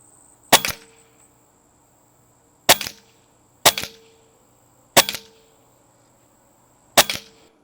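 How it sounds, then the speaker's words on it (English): Crosman air gun fired at targets, five sharp snapping shots spaced a second or two apart, each with a brief ringing tail, close and clear with no talk. "We'll shoot the old at the top and the new at the bottom, all in one round."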